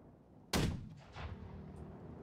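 A single heavy ship cannon shot in Blackwake booms suddenly and loudly, then rolls off into a rumbling echo with a fainter secondary report.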